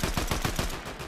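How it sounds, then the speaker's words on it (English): Rapid automatic gunfire in Fortnite as a player shoots down trees, a fast steady burst of close, loud shots, about eight in just over a second, with no voices. "I'm gonna just shoot all these trees down."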